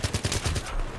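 Full-auto gunfire in Battlefield 3, a rapid string of sharp, loud shots in an even burst that stops after about half a second, with no talking.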